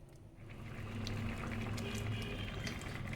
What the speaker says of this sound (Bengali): জল দিয়ে একটু নেড়ে এটা আমি মিনিট 5 ফুটতে দেবো।